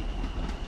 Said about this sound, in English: Another local service arriving here at Guildford station from London Waterloo. A pair of class 455s.